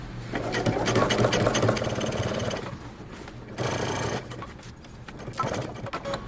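A sewing machine stitches denim jeans in bursts of steady, close mechanical whirring, with short pauses between runs. The motor hums at a constant pitch while each run lasts.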